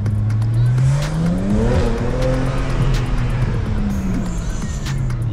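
A BMW accelerating hard, its engine note climbing in pitch and roaring loudly from close by, with a second rising sweep and a hint of tyre noise toward the end.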